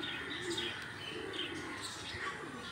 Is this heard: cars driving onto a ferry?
no